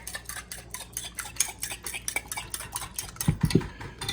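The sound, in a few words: whisking eggs with melted butter in a bowl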